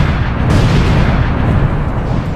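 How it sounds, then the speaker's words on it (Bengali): Sticky bombs detonate in a video game, a dense continuous roar of overlapping explosions and rumbling booms, loud and close, with no talking. "এখানে আমি অনেকগুলো স্টিকি বম লাগিয়ে দিয়েছি, এবার এগুলো ব্লাস্ট করতে হবে।"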